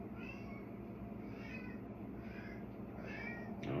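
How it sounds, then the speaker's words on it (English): A cat meows repeatedly indoors, four soft drawn-out calls spaced about a second apart, faint against a low steady background hum. "You're meowing for no reason."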